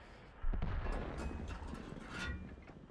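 A single heavy tank cannon shot from the Jager sniper tank in World of Tanks, a sudden deep boom followed by a sustained low rumbling tail with battlefield noise, loud and close, with no talking.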